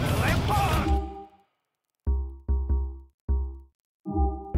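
A burst of noisy impact at the start, then a series of short, sharp thuds with brief gaps between them, as a car crashes into a sign in GTA IV.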